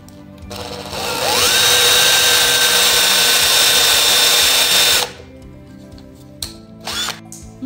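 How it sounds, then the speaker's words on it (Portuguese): A power drill whirs loudly for about four seconds as it drives a screw into the wooden frame of a chair being upholstered, rising in pitch, then stops; a brief second burst follows. "Aí agora sim eu posso furar."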